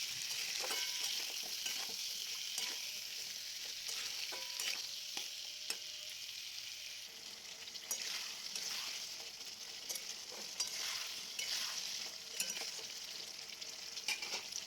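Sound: potatoes, chopped tomato and peas frying in a pan

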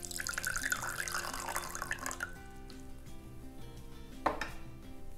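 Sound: water poured into bowl for bottom-watering jade plant

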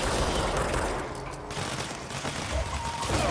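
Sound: gunfire from a video game

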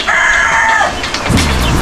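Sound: chicken crowing

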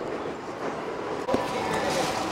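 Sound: train passing near Tennoji station in Osaka

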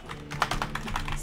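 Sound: typing on a malfunctioning computer keyboard

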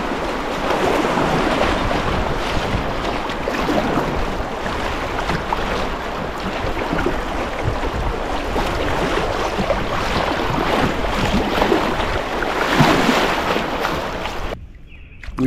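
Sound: kayak passing through shallow river riffles

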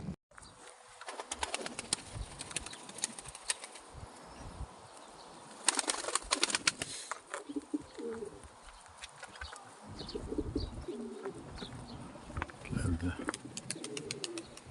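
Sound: tumbler pigeon flying, flapping wings

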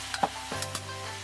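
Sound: fish head sizzling in wok with aromatics and soybean paste

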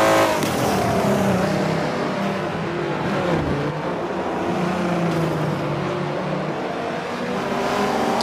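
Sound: race cars racing at Watkins Glen in video game Forza 7

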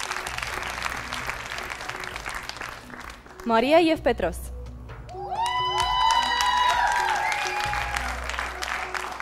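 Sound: studio audience applause on a TV show

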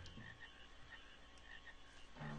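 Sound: gold frog croaking in Final Fantasy IX, from a video game

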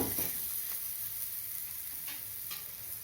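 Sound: ragi and drumstick leaf adai cooking on a pan

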